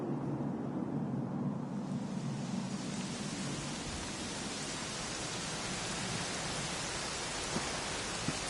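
Steady rain falls in an even, hissing wash that fills in and grows fuller after the first couple of seconds, continuing alone at a soft, constant level.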